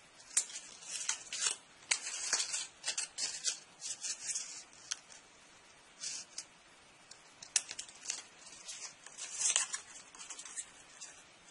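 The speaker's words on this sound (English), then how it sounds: "you can fold this and then cut your ends" Paper being folded and cut with scissors while assembling a 1:200 scale brick airport terminal model, a steady run of close, crisp snips, crinkles and rustles with short pauses, no talking.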